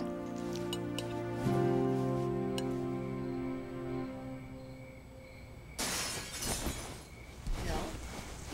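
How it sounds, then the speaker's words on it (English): Glass shatters suddenly in a home at night during a comedy drama. After a soft musical passage, a loud crash arrives near the end and is followed by scattered crackling, with voices around it. "It sounded like glass breaking."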